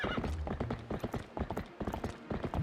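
A horse trots in the Zelda game Twilight Princess HD, its hooves clip-clopping in a quick, steady rhythm, with a short whinny near the start, all close and fairly loud for under three seconds.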